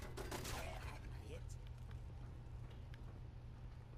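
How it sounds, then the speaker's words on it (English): Automated turrets fire guns during a Fallout 4 firefight, with a burst of rapid shots at the start followed by scattered, fainter gunfire over a steady background hum. "the turrets seem to be shooting at them"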